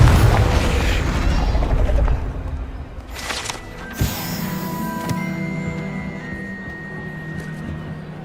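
A Confringo fire curse goes off in the Hogwarts Legacy video game, with a sharp booming burst near the middle and a ringing magical tail, heard over a dense rumbling game soundscape with mechanical clicks.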